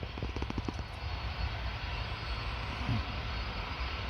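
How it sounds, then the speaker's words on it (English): An Air Caraïbes Boeing 787 Dreamliner takes off from runway 08 at Paris Orly. Its jet engines make a continuous, broad roar that holds steady and fairly loud throughout, with no talk. "That is a 787 Dreamliner."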